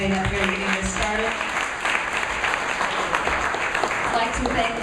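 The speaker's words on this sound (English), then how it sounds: "Big round of applause for both these gentlemen standing up here and getting this started." An audience at a local district debate claps for the candidates, a dense burst of applause with a voice talking over it.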